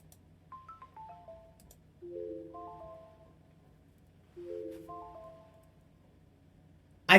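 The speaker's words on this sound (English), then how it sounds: "I think that sounds in Windows 10 as a timer sound." Windows 10 timer alert, a chime first made as a Windows 7 ringtone: falling bell-like note runs followed by two rising-falling chord phrases, clean and moderately soft over a faint background hum.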